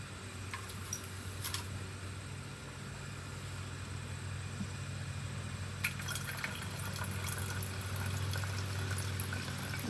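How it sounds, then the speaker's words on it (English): Water poured into a container holding a little vinegar to make a vinegar and water mixture, a quiet trickle and splash with faint clinks, recorded close but at low volume. "So I put my water in."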